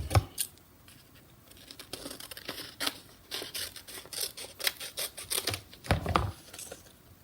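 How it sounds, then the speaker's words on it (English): Scissors snip a corner off a long, skinny paper shape, giving a series of close, crisp cuts and paper crinkles in an otherwise quiet room. "and I want to cut off one corner"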